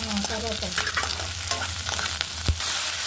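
Curry leaves and onion frying in oil with mustard seeds, cumin, cloves, cardamom and cinnamon, a close, busy sizzle with quick metallic scrapes and taps from stirring and one sharp knock near the end.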